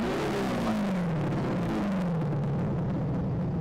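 A red Dodge electric muscle car gives off a loud, continuous synthetic engine-like drone, a steady rumbling whir with a tone that slowly sinks in pitch, heard up close with no talk.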